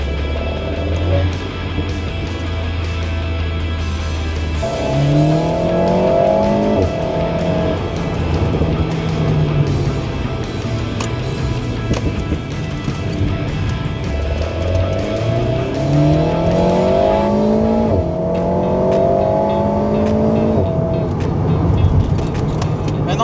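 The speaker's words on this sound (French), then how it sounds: "on entend assez bien le turbo" An Alpine A110S turbo engine accelerates hard, its note climbing in repeated rising sweeps through the gears, then dropping back between pulls, loud and steady.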